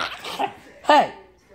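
A single sharp dog bark or yelp rings out close by, after a moment of quieter whining or vocal sounds.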